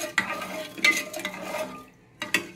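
Rice with salt being stirred in a pan makes a few quick scraping, rustling strokes in short bursts separated by brief pauses, close and moderately loud.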